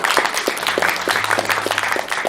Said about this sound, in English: let's give it one more time round of applause for John.